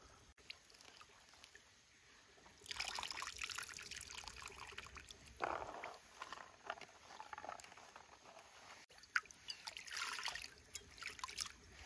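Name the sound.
water poured into a pressure cooker for boiling cauliflower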